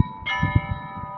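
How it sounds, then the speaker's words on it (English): Church bells ring in Kyiv, a single bright strike with lingering metallic overtones carrying over low background rumble and thumps, with no talking over it. "there's the bells"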